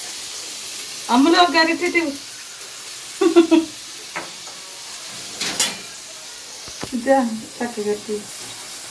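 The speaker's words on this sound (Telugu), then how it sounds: "అయితే ఉల్లిపాయలు అయితే వేపుతున్నాను అనమాట" Onions frying in a pan for a fish curry, a soft continuous sizzle running underneath a woman's speech, with occasional scrapes of a ladle against the pan.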